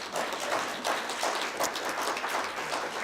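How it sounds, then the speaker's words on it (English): An audience at a primary candidates' forum for the 16th District applauds, with dense, even clapping that holds steady across the whole stretch at moderate distance. "you may give them a round of applause if you'd like"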